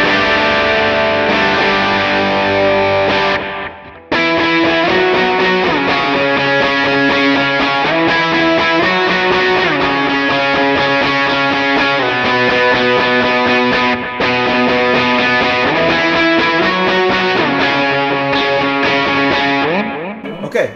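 Electric guitar played through a Line 6 Helix LT with the Minotaur overdrive and a studio compressor, giving a pushed, driven rhythm tone: loud, sustained chords with one brief break early on, alone without talk.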